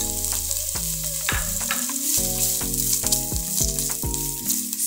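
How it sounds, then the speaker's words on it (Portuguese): Meaty, lean bacon sizzling loudly in a pan with oil, a bright continuous crackle up close, punctuated by regular knocks and scrapes of a spoon stirring it. "Então, vamos fritar esse bacon."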